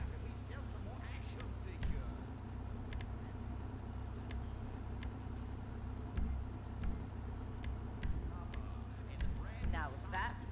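Car engine idling and running in Grand Theft Auto V, a steady low rumble that holds through the clip with small swells, while a person talks over it.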